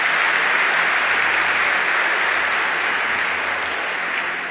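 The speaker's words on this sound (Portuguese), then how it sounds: "Uma salva de palmas para Jesus" Steady applause from a crowd, dense continuous clapping that holds throughout and starts to fade slightly at the end.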